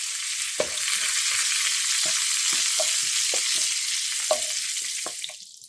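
Mustard seeds, urad dal, curry leaves and cut red chillies fry in hot oil for a Kerala cabbage thoran, giving a steady close sizzle with scattered sharp pops and crackles.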